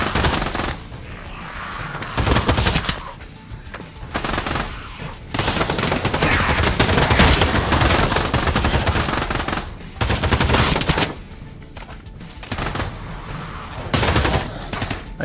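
Sustained bursts of automatic gunfire in the VR zombie shooter Pavlov, long loud stretches of rapid shots separated by brief pauses, close and dominant with little talk.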